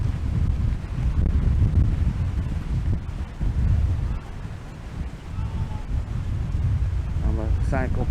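Strong wind blows at a warm beach in Bang Saen, buffeting the microphone in a continuous low roar that swells and eases in gusts.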